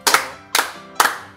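A group at a church fellowship service claps in unison, three sharp, evenly spaced claps, loud and close, with short quiet gaps between them.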